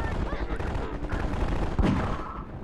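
A hand cannon revolver booms in Half-Life 2 during noisy combat, one sharp loud shot landing near the end over a busy layer of game sound and faint voices.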